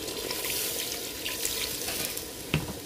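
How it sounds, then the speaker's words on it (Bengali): Water poured into a pot of chicken cooking in masala for handi chicken, a continuous splashing rush over a faint sizzle, with a small knock near the end. "জল দিয়া দিব"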